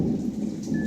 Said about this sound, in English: Just back-to-back lightning.